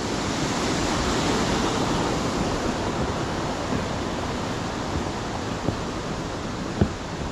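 Hareshaw Linn waterfall pours from a huge drop, and the splashing water and fine mist make a loud, steady roar up close. A couple of faint knocks come near the end.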